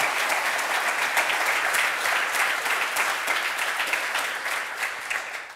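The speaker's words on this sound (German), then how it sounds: "Einen großen Applaus bitte" Studio audience at a German sports talk show claps in a steady, even burst that holds for several seconds before thinning out.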